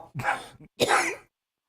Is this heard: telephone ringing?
no